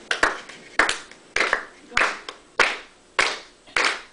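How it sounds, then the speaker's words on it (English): Hands clapping in steady unison at a house concert, seven sharp, evenly spaced claps ringing close and loud against a quiet background. "clap your hands with me"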